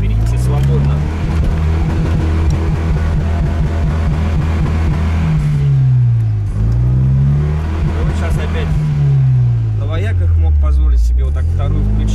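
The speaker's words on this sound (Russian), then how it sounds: "Вот сейчас, если я еду в первое, он не осиливает вторую, никак, он начинает прям, ну, взрываться" A car engine strains and revs hard while struggling to pull in second gear, a loud, continuous droning roar whose pitch rises, drops and climbs again, with someone talking over it throughout.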